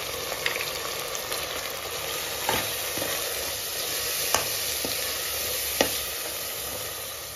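Masala frying with chili powder in a pan, a continuous close sizzle with occasional sharp spoon scrapes and taps against the metal, no talking.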